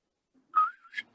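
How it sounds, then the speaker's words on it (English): A short, clear whistle, one sustained tone that dips and then rises at the end, heard alone in a quiet space. "Oh no, that's the whistle"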